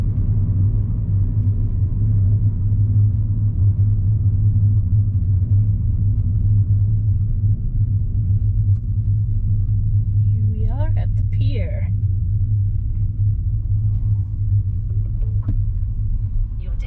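Car driving steadily along an open road in eastern Turkey near Van Lake, a constant low engine and road rumble filling the whole stretch, with a brief faint higher sound partway through.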